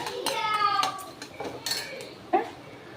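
A spoon scrapes and clinks against a pan as puliyodharai masala mixture is stirred, with irregular metallic taps and a few louder knocks under a nearby voice.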